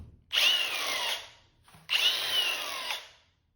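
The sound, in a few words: Milwaukee 18V cordless angle grinder running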